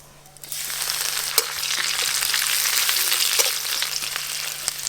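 Neem leaves, five-spice and a dried red chilli drop into hot ghee and burst into a loud, steady sizzle right up close that holds for several seconds.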